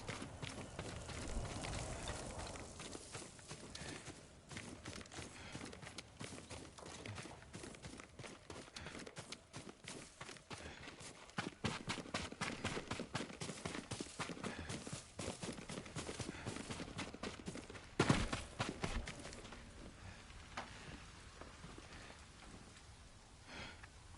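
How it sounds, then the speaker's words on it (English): Horse hooves gallop steadily in the samurai game Ghost of Tsushima, a continuous rapid clatter carried over a rainy outdoor ambience, with a louder burst of movement near the end. "Yuriko's horse. She can't be far."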